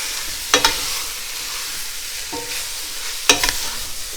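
Onions and beef cubes browning together in a pan, with a steady low sizzle underneath and a few sharp scraping stirs against the metal spaced a couple of seconds apart.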